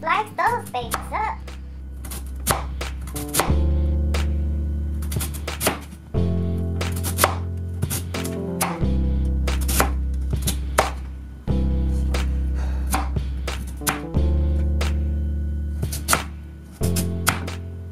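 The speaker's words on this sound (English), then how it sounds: "now we're going to slice these about a quarter inch thick" A knife slices sweet potatoes a quarter inch thick on a cutting board, making a steady run of sharp, close chops in quick bursts with short pauses between, heard alone without talk.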